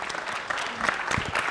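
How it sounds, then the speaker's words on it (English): Applause from the audience at a panel discussion on DevOps leadership, a brief burst of scattered clapping from a modest crowd, moderately loud, with a few voices mixed in. "Let's give a big round of applause for Mahesh."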